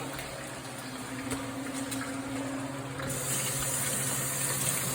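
Water runs steadily from a tap, a continuous hiss that grows fuller partway through as something is rinsed under it.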